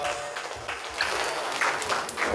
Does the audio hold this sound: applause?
yes